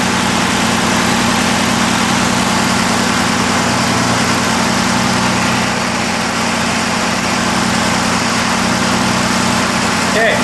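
Austin Healey engine idling after tri-carb SU tuning, a loud, steady, even idle with a constant throbbing hum and broad mechanical hiss, unchanging throughout.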